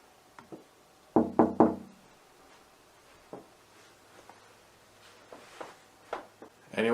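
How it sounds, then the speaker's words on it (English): Knocking on a door in a reportedly haunted room: a quick burst of three sharp knocks, then scattered single taps and thuds, fairly close and alone, with a louder knock at the end. "See what happens if I knock on it."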